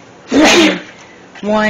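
A person gives one sharp, loud sneeze close by in a home kitchen, and a voice starts speaking just after it.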